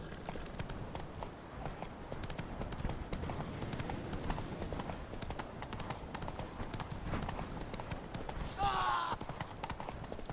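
Steady clip-clop of horse hooves in The Witcher 3, a continuous rhythmic trot running the whole time at moderate loudness, with a brief whinny near the end.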